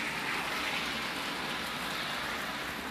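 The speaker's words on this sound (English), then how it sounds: "it's raining weather like this and it's freezing cold and it's raining like this" Steady, close rain falls in freezing cold weather, a dense continuous patter on surfaces with no voices.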